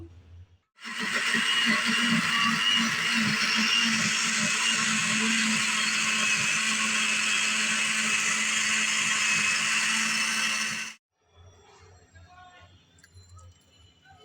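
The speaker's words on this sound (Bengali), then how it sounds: "এগুলো আমি এখন ব্লেন্ড করে আনবো" Electric blender whirring steadily on ripe jackfruit pulp for about ten seconds, a loud, continuous motor drone that starts and stops abruptly, with quiet room noise before and after.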